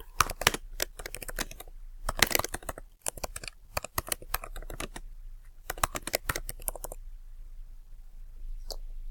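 Bursts of rapid clicking from a computer keyboard as a title is typed in, loud and close, with short pauses between runs of keystrokes and no talking.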